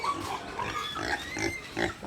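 Grunts and snorts from a sow kept as breeding stock on a farm, in a dense run of close, repeated bursts over steady background noise, with no talking.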